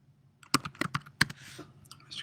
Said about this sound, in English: you have to type out their full name